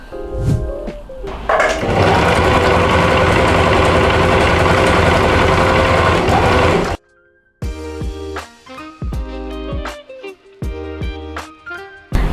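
An overlock sewing machine finishes the fabric edges of a bunny bag, running loud and continuous for several seconds with a steady mechanical whir, then cutting out before a series of shorter bursts and rattling stops.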